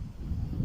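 Low, gusty wind from Hurricane Milton in Cape Coral, Florida buffets the microphone outdoors near deep water, producing a steady rumbling roar that swells slightly toward the end.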